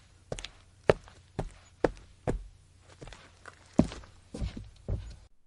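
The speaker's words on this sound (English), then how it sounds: "That bastard was walking through the kitchen. The footsteps were heavy." Heavy footsteps thud one after another across a kitchen floor, about a dozen uneven, fairly close impacts with short gaps between them in an otherwise quiet room.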